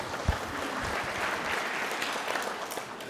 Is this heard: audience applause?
yes